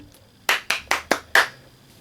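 Five sharp hand claps in a quick, fairly even rhythm, close and loud, with quiet pauses on either side.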